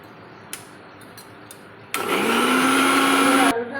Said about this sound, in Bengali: আমরা এই মিক্সচার মেশিনে আদা, কাঁচা লঙ্কা, শুকনো লঙ্কা, টমেটো দিয়ে পেস্ট করে নেব।